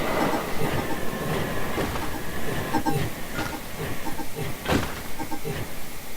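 A train rolls loudly along rails in the Scrap Mechanic video game, with a continuous rumble and a rhythmic clickety-clack of the wheels throughout.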